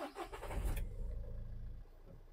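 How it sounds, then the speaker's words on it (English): A 2019 Fiat Talento van's engine cranks and catches with a loud, close burst, then settles into a low, steady idle rumble that fades slightly toward the end. "start the car."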